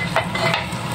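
Egg frying in a pan for a home-cooked fried rice meal, a steady close sizzle and crackle with soft stirring scrapes, no talking.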